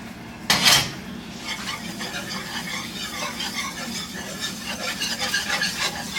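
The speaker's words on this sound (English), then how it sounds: "Put the garlic in and the chili powder. We're gonna put those 2 in. We'll let them cook for a minute." Garlic and chili powder cooking in a pot, a soft steady sizzle with a utensil scraping and stirring, opening with a brief loud clatter against the pot.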